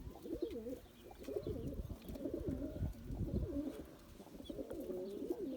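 Soft, repeated pigeon cooing, close and steady, a low throaty burbling that continues in phrases through the whole stretch with no talking.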